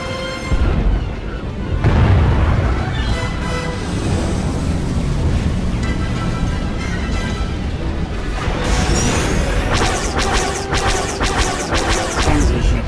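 Blockading starships open fire in the Star Wars: The Old Republic video game: loud, dense blasts and crashing impacts roar continuously, ending in a rapid series of sharp, rhythmic shots.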